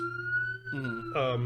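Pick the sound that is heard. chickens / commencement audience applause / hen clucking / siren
siren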